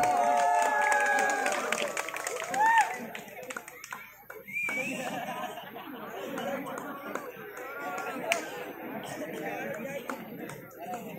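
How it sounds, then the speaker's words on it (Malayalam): Spectators at a Padavayal kabaddi match clap and cheer in a busy crowd din. A commentator's voice carries over the scattered applause and chatter throughout. "കാണികൾ കൈയടിച്ച് പ്രോത്സാഹിപ്പിക്കുക."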